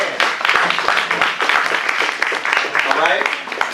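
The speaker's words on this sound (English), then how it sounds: "Please give him a round of applause" Lecture audience applauding a speaker, a dense broadband patter of many hands that stays fairly steady and loud for several seconds, mixed with voices talking over it.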